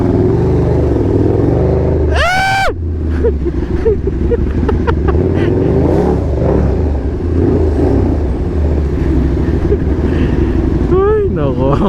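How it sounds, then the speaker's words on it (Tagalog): Saturday traffic on Marcos Highway is a dense drone of car and motorcycle engines, with passing vehicles and brief horn-like wails close by and a voice speaking at times over the din. "Traffic pala."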